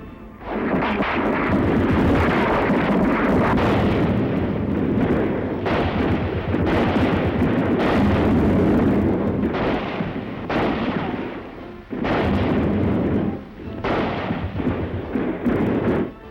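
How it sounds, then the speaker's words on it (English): Battle din of WWII street fighting at Cherbourg, with rifle and artillery fire mixed into a dense, continuous roar, loud and close, broken by a few brief lulls. "But the Yanks can do a bit of sniping themselves."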